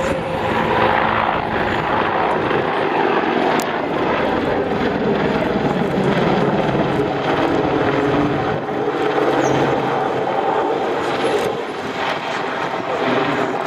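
A Boeing AH-64 Apache attack helicopter performs a corkscrew manoeuvre at the ILA Berlin air show, its rotor and engine roar steady, loud and continuous throughout with no voices.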